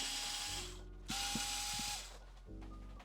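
Ratcheting clicks from a screwdriver loosening screws on a JBL Tuner 2 portable radio speaker, close and steady in short bursts with brief pauses between turns.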